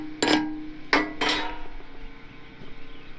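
A hammer knocks slag off a weld on a gooseneck trailer winch mount, three sharp metallic clinks in quick succession with ringing decay, then low background noise.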